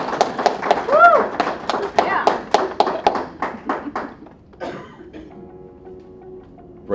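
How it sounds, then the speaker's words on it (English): Scattered applause from a small audience at a National Reconciliation Week celebration, a few sharp claps standing out over talk and a brief tonal melody, then fading away. "You can give me a round of applause"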